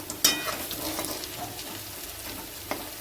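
Maggi noodle Manchurian balls deep-fry in oil with a constant bubbling sizzle, broken by a sharp clatter near the start and another brief knock toward the end.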